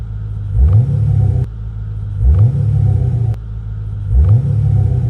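A 2013 Chevrolet Camaro SS engine blips three times in an even rhythm, each rev swelling into a deep throaty roar before dropping back to a rumbling idle, close and loud with no voices.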